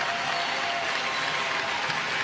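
A volleyball arena crowd at a Nebraska Cornhuskers women's match applauds and cheers in a steady, dense roar of claps and voices that holds at even loudness throughout.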